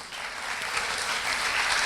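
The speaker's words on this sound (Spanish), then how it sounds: "Dale ese aplauso al Rey." A church congregation claps together in thick, even applause that swells slightly and holds steady throughout, with no speech on top.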